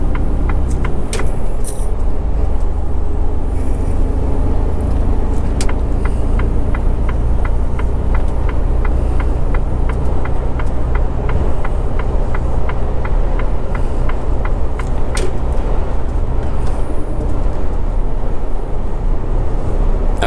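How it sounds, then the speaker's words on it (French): Heavy trucks rumbling steadily close behind on a road, heard from inside a moving truck cab on the way to a client near the French border, with continuous loud engine and road noise and a brief hiss. "il y a les camions qui arrivent derrière là"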